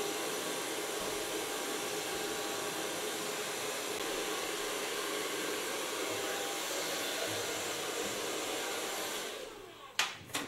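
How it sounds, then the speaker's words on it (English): A hair dryer blows steadily on hair, an even, close whirring rush that runs unbroken for several seconds before cutting off with a couple of clicks at the end. "So far blow drying."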